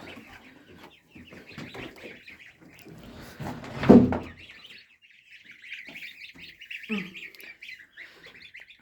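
Domestic goslings peep in high, rapid chirps under a heat lamp, with scattered calls and a brief louder squawk partway through, close and fairly quiet.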